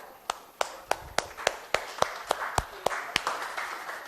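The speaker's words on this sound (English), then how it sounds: "Exercise by clapping your hands." Audience in a lecture hall clapping hands, a dozen sharp claps spaced roughly evenly over a few seconds, fairly quiet and close with a soft room wash, no talking.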